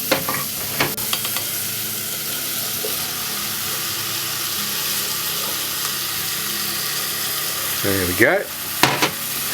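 Mushrooms and chili beans sizzle steadily in a hot saucepan while being stirred, with scraping clinks of the spoon near the start and a brief spoken remark toward the end.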